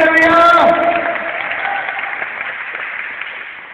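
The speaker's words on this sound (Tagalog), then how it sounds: "Yung palakpak na nagaganap sa Panginoon." Church congregation applauding the Lord, a dense burst of clapping that swells at the start and slowly fades, with a speaking voice over it.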